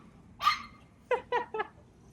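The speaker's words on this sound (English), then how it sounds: "There's a lot of little tiny yappy dogs around this parts." Small yappy dogs bark nearby: one yip, a pause, then three quick barks in a row, alone over a quiet background.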